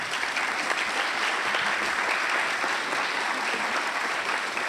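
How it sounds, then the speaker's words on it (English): Steady applause from an audience at a school superintendent's award reception, dense even clapping throughout with no voices over it. "I'd like to give them a round of applause as well."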